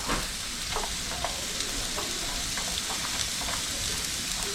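Chopped onion hitting a hot pan of garlic, a steady close sizzle and frying hiss with light stirring scrapes running throughout, no voices.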